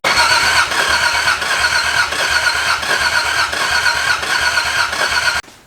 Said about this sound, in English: That starter doesn't sound very happy.